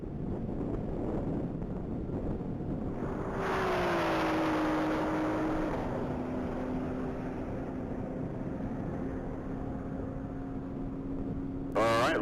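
A red 2018 Porsche 911 Carrera GTS accelerates flat out on a one-mile top speed run at the Texas Mile, its engine note rising and settling into a high steady whine under constant wind rush, distant at first and growing nearer.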